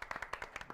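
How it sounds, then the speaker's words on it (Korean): Brief burst of hand clapping from a small audience at a live broadcast, a quick run of close, crisp claps. "힘찬 박수 부탁드립니다."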